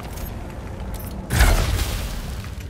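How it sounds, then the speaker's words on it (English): A pulse blast ability fires in Marvel's Spider-Man 2, a sudden booming burst with a crackling tail that follows a stretch of low mechanical hum. "Time to test out my pulse blast"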